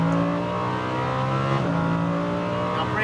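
A Lamborghini Huracan V10 on the Las Vegas Motor Speedway track rises in loud engine pitch under throttle, shifts once, then keeps climbing in a close, sustained roar.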